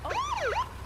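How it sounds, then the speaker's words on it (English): A brief electronic siren wail rises and falls once, sharp and quite close, against a low rumbling background. "A police car."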